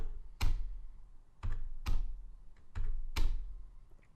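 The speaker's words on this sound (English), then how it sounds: "there's going to be about 4 steps where you will just type in Y and enter" A computer keyboard being tapped to type Y and Enter while installing and securing MySQL on a server: about six sharp, close keystrokes in uneven pairs and singles, with quiet pauses between them.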